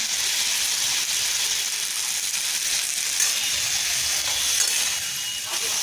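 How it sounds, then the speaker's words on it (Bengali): Pointed gourd (potol) curry fries steadily in a pan, a continuous hissing sizzle with occasional faint scrapes of stirring and no talking. "এটা পটল তরকারি বসালাম, পটল তরকারিটা করছি, কষে নিলাম"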